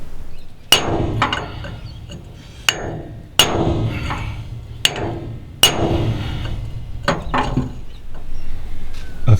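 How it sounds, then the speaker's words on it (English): A hammer strikes the steel rudder post of a trawler to drive it down, giving loud, ringing metallic clangs in irregular pairs and singles with short pauses between blows. "then we'll come back up and start hitting the rudder post."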